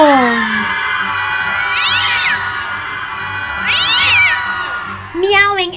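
A storyteller voices a giant cat, with loud meow-like vocal cries imitating the animal, two rising wails a couple of seconds apart and a final sharp yowl, no real hiss apparent.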